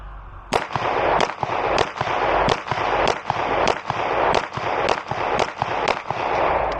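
Beretta APX A1 Compact pistol fired at target practice: about a dozen sharp, loud gunshots in a steady rapid rhythm, each with a brief echoing tail, no talking.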